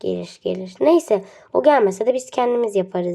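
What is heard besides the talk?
No everyday noises stand out.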